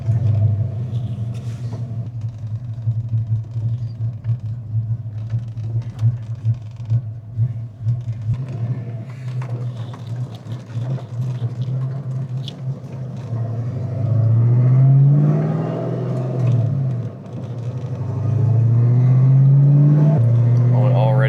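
A Foxbody Ford Mustang out on a test drive after new parts rumbles along with a low engine drone, rising in pitch through a couple of revving accelerations, while someone talks over it.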